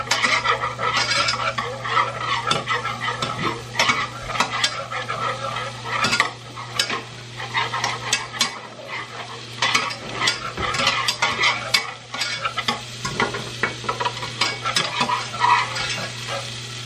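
Food sizzles in a pan as a utensil stirs and scrapes with frequent clinks and rattles, close and busy, over a low steady hum.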